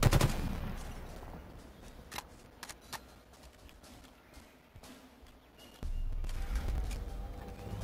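Mounted gun in the video game Halo Infinite, a sharp opening burst followed by scattered individual shots, then heavy continuous fire in the final seconds, with no voices.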